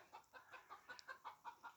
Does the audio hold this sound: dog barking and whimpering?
no